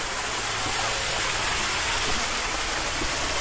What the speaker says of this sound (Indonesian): ada aliran air terjun kecil.